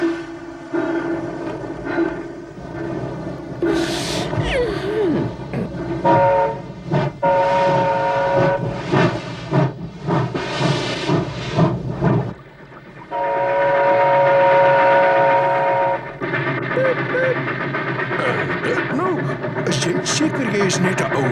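A cartoon train rolls along with a rhythmic clatter and blasts its horn and whistle several times, under lively character voices talking.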